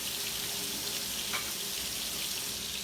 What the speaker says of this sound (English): I'm gonna put it right in that pan, all right? Just like that. Our heat is on medium high